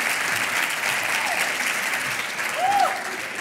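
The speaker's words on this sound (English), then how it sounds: "Give him a round of applause." Audience applause filling the room, dense steady clapping from a crowd, with a faint voice briefly rising over it.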